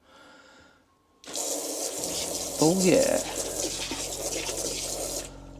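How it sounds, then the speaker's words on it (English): Shower running with the water pump switched on, a steady loud hiss of spraying water that starts abruptly and continues with a pump hum underneath, with a brief voice over the start. "Put the water pump on. Water pump on. Shower on."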